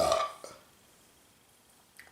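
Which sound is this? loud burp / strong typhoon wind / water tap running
loud burp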